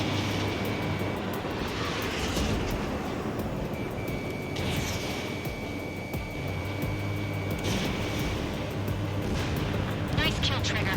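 Fighter jet engines roar continuously in Ace Combat 7, a steady loud rumble with a faint high whine, under game radio chatter and voices.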